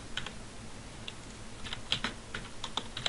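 Quiet clicking of a computer keyboard while typing code, with irregular clusters of light keystrokes and small pauses between them, close and soft, no voices.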